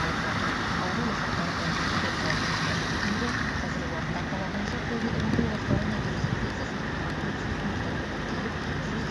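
Rainwater rushes and patters steadily into a dug-up street where a large repair pit in the middle of the road is filling up, a dense, even wash of water noise throughout with no voices.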